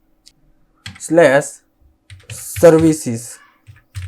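Clicky keystrokes tap on a computer keyboard in short bursts, mixed in with someone talking close by during a coding session.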